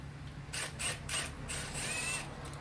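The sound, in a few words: impact wrench with 3/8 adapter loosening brake bolt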